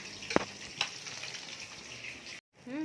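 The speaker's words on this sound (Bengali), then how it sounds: "এবার ডাল বড়াটা ভেজে নেওয়া হচ্ছে" Lentil fritters (dal bora) frying in oil, a soft continuous sizzle with a couple of sharp pops and clinks, followed by a brief silence.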